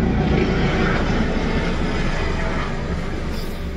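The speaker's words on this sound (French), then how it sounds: "J'ai un défilé d'hélicoptères là dans le ciel, ça m'arrange vraiment pas." Helicopters fly overhead in a formation for the Belgian national day parade, a steady, loud low rumble of rotors and engines that fills the whole stretch with no talking.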